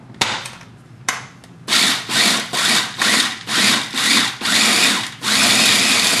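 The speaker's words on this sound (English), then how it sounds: "Put it into the processor and grind it up into bits." A food processor grinds fried lemongrass in loud, close bursts: a couple of short pulses, then about eight rhythmic surges of whirring and chopping that end in one longer continuous run.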